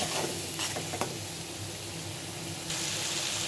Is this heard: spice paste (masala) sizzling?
yes